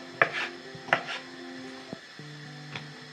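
A knife chops potatoes into small cubes sharply on a cutting board a few times, close and crisp, with quiet pauses between the cuts.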